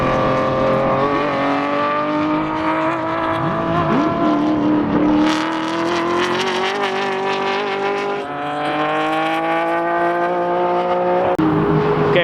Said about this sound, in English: Race car, vroom vroom.